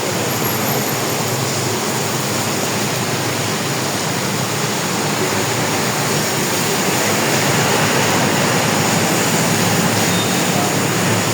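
A loud, steady roar of rushing floodwater fills the whole clip, broad and unbroken, as the typhoon-swollen Marikina River churns past close by.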